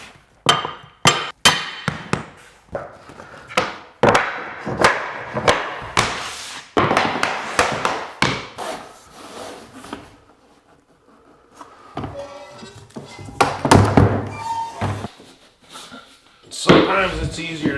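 A plank puller struck with a hammer against vinyl plank flooring with a locking system, giving a string of sharp, loud metallic knocks in uneven bursts, with a pause midway and someone talking between the blows.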